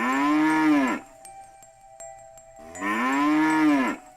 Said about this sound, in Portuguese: todas as vacas começaram a mugir ao mesmo tempo